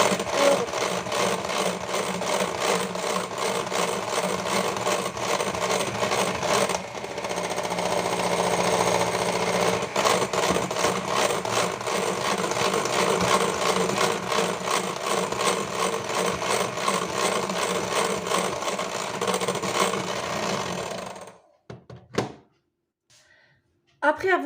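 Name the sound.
electric whisk beating madeleine batter with oil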